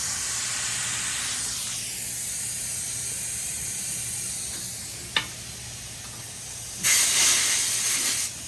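Air hisses steadily while a four-wheeler tire is filled with air, with a sharp click partway through and a louder, brighter burst of hissing near the end.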